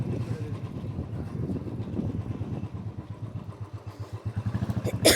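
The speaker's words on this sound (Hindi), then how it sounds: "तो हम लोग आए हैं बाइक से।" Motorcycle ride with a steady low engine drone and wind buffeting the microphone, the engine note rising and pulsing louder near the end.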